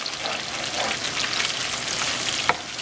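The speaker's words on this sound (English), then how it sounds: "The onions and the green peppers are starting to cook down pretty good now." Onions and green peppers frying in a pan on a stove, a steady close sizzle and crackle throughout with one sharp click near the end.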